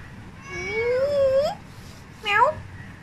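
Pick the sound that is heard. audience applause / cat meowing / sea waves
cat meowing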